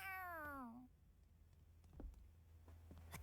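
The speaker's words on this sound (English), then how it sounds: "A cat? Where'd it come from?" In the Tales of Arise video game, a cat gives one clear, close meow that slides downward in pitch, followed by a few faint clicks and taps over a low hum.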